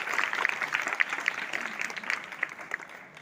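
A crowd at a school prize-giving ceremony claps steadily, a dense continuous patter of many hands at moderate distance with a few sharper individual claps standing out, fading slightly toward the end.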